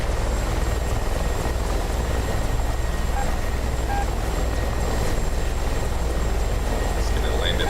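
Aircraft engine drone in the DCS World flight simulator as a plane touches down with gear lowered, a steady loud broadband roar with faint tonal whine running throughout, a few short beeps near the middle.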